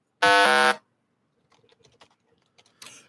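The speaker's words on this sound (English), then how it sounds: "My buzzer is stuck." A loud, harsh electronic game show buzzer, stuck, blares for about half a second, then faint clicks and taps follow, with a brief burst of noise at the end.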